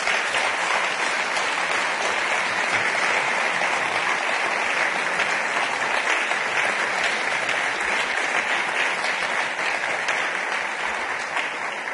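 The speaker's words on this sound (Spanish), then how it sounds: "quiero que le deis un fuerte aplauso" Dense, steady audience applause at the Premio Julián Besteiro de las Artes y las Letras awards ceremony in Madrid, sustained at an even level for the whole stretch with no break.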